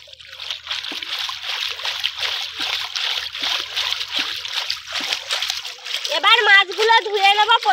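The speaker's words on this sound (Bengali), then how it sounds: "পরিষ্কার করে পুকুরের জলে ভালো করে ধুয়ে নেব।" Cut pomfret pieces washed by hand in pond water make repeated close splashes and sloshing, with a voice speaking near the end.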